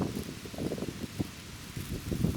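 Steady wind blowing outdoors on a warm September day at a fishing spot, a soft, continuous rushing with gusty rustling swells and light buffeting, fairly close and faint, with no voices.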